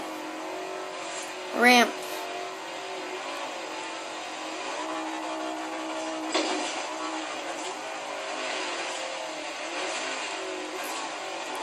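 Ford Focus race car in the video game Forza Horizon 3 on Blizzard Mountain, engine droning steadily throughout with a brief louder rev spike early on, heard under someone talking over it.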